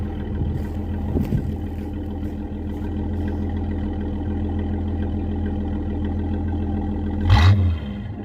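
A custom Ford Mustang idles with a steady low engine rumble through its mufflers, then gives one short, loud rev near the end. No one speaks.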